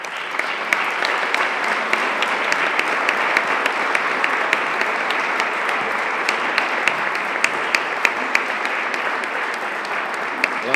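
An audience at a classical guitar competition event in la Granadella applauds steadily, a dense continuous wash of clapping with crisp individual claps standing out throughout.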